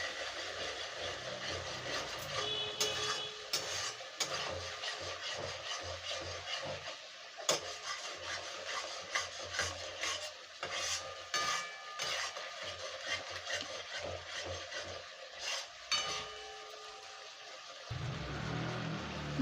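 Spice paste for a vegetarian jackfruit kalia sautéed in a pan, with soft repeated scraping and stirring strokes at an uneven rhythm, fairly quiet and close.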